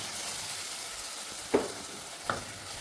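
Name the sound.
tomato puree sautéing with chili and turmeric powder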